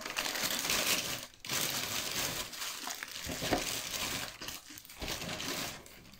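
A parcel of diamond painting items, including a storage box and Christmas canvases, being unpacked, with close crinkling plastic and paper, crushing rustles and small rattles in uneven bursts.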